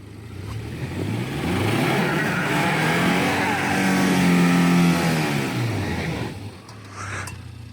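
A BAW 212 SUV engine revs up, its pitch climbing into a loud, sustained roar near the listener, then easing back down before settling to a lower rumble.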